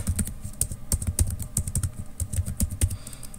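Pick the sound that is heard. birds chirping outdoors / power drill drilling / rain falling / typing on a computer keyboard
typing on a computer keyboard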